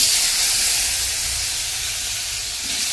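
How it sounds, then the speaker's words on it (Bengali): Potatoes fry in hot oil with a loud, continuous steamy hiss and sizzle that holds steady throughout, with no talk over it. "আলু দেবো কেন আলুটা ভাজবো"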